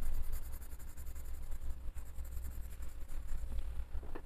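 Colored pencils from the Auchan 50-color set scratch across paper during coloring, a faint continuous rapid scribbling texture with no talk.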